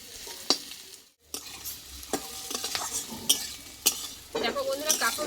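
Pieces of teasel gourd (kakrol) fry with sugar in a pan and are stirred with a spoon, giving a steady sizzle broken by sharp scraping clinks of utensil against metal, close and fairly loud, with a brief hush partway through.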